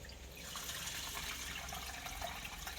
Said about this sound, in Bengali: ধুয়ে জলটা ফেলে দেব